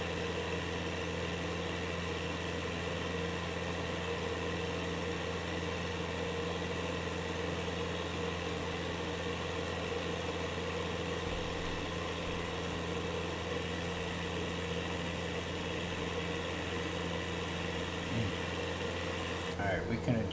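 A light aircraft engine running under strain in Microsoft Flight Simulator, a constant droning hum with steady harmonic tones that holds level throughout, with faint talk over it.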